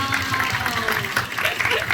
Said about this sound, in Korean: 보고 계신 그 모든 분들을 향해서 같이 한번 박수 한번 칠까요?